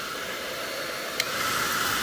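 A Chi Rocket hair dryer blows steadily, a loud broadband airy roar that holds without pause, with one brief click partway through.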